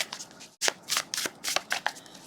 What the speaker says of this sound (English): Let's just give it a shuffle and draw out another card.